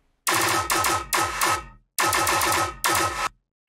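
Gunshot samples in an electronic music track fire as sharp, loud bursts in a rhythmic pattern, grouped in quick clusters with short booming decays and brief silent gaps between them.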